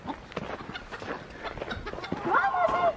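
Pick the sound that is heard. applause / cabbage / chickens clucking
chickens clucking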